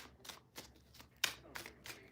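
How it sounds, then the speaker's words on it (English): Tarot cards being shuffled by hand in several quick riffling bursts, close and moderately loud, with brief pauses between each pass. "One more shuffle."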